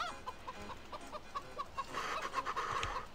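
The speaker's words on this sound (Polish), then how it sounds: "Jajka mam, kury." Hens cluck in a farmyard in Farming Simulator, a steady run of short, regular clucks that grows busier and louder as more birds join in toward the end.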